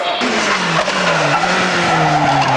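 A March BMW racing car spins with a loud, sustained tyre squeal that slides downward in pitch over the engine roar, close and intense for about two and a half seconds.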